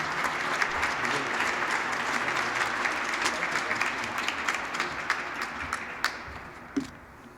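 Sustained audience applause fills the room as chairman P.G. Peebles is welcomed at a Frankfort press conference, dense clapping that gradually thins out toward the end.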